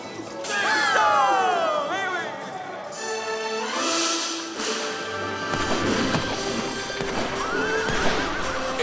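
Show horses at Disneyland Paris neighing loudly several times, with repeated whinnies over clip-clopping hooves and thuds throughout, busy and close.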